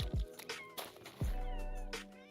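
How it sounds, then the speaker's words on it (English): Minecraft cats meowing in a cluster of short, bright cries that repeat through the moment, close and distinct, with background game music and no talking. "Oh, I just need two more cats."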